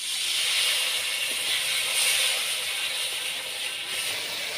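Water poured onto hot turmeric and Kashmiri chilli powder paste in a pan while making Bengali ghugni, giving a steady, loud hiss that holds for several seconds with no talk.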